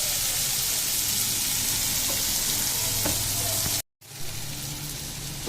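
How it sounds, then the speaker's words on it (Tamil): Ridge gourd and moong dal fry in a pan while being stirred, a continuous close sizzle with scraping strokes of the spoon, briefly cut to silence near the end before the frying hiss resumes. "நல்லா கிண்டி விட்டுக்கிட்டே இருக்கணும். ஏன்னா தீ பிடிச்சிடக்கூடாது."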